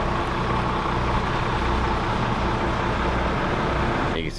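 A steady, loud rumble of truck engines and road traffic at a truck stop fills the air without pause, heavy and low, with no one speaking.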